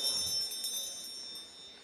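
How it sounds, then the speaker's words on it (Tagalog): A hand bell rings with bright, sustained high tones that decay slowly over a couple of seconds, moderately loud against a quiet background with no talking. "nagkuha kog bell. Gibagting ra nako"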